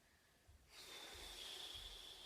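A single long exhalation during a breathing exercise, a soft airy hiss that starts abruptly and holds steadily for over a second, close to the microphone.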